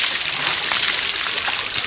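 Steady sloshing and splashing of water while a baby is being washed, continuous and close, with a faint voice now and then.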